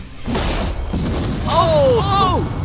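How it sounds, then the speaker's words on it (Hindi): A Minecraft creeper explosion blowing up a village lands as one broad, loud boom early on, followed by gliding, warbling tonal sounds as the blast settles. "आगे हम एक पूरे के पूरे गांव को एक क्रीपर धमाके से उड़ाने वाले हैं"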